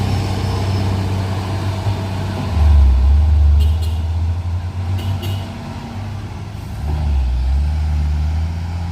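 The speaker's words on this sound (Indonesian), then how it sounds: "ini ada truk tangki Isuzu Giga tronton" Isuzu Giga tronton tanker truck loaded with CPO oil reversing on a slope, a heavy diesel engine rumbling loud and close with revving swells and a few short sharp air brake hisses partway through.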